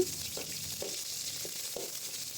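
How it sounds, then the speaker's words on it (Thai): A soft, steady sizzle of southern Thai curry paste frying in vegetable oil in a pan over fairly low heat, with a few quiet scrapes and taps of stirring at irregular intervals. "ถัดมาตั้งกระทะใส่น้ำมันพืช นำพริกแกงใต้ลงไปผัดให้หอม"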